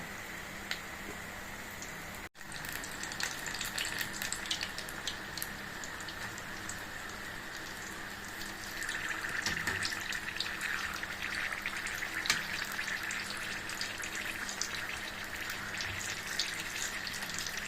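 Green chilli fritters (mirchi bajji) frying in hot oil, a steady crackling sizzle like rain on a surface that continues throughout and grows slightly busier partway through, close and unbroken by talk.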